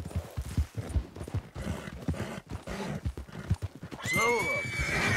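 A Missouri Fox Trotter horse in Red Dead Redemption 2 clip-clops along with steady hoof beats, then lets out a loud, rising whinny near the end.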